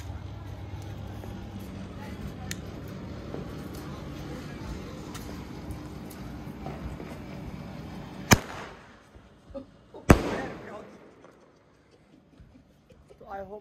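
Two sharp fireworks bangs, the last shots of a Karva Chauth display, burst out near the end after steady background noise and voices, each followed by a brief crackling tail.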